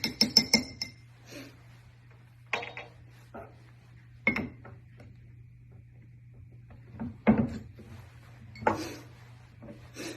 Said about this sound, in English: it is important that you stir and don't shake